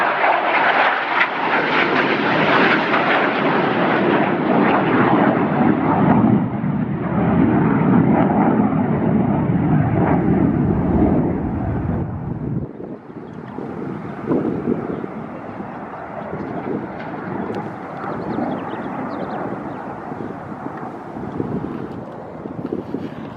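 An F-4E Phantom II jet aircraft passes with a loud, sustained roar that dips and shifts in tone about halfway through, mixed with wind buffeting the microphone.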